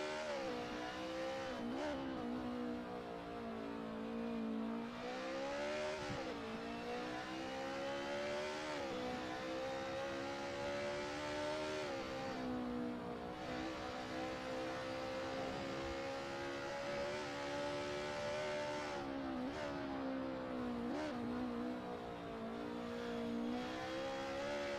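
A race car onboard for a full lap in the DTM Classic racing video game, its engine revving hard without a break, pitch climbing and dropping through repeated gear changes.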